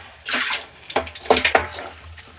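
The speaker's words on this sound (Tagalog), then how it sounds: "So medyo mahina ang tubig, hindi masyadong malakas." Water splashes and sloshes in a weak, uneven flow while a vegetable farm is being watered, with several close bursts of gushing and a low background hum.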